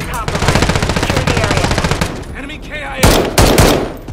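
Rapid automatic gunfire from a Call of Duty match, loud and sustained in quick bursts for several seconds, then a couple of heavier blasts near the end.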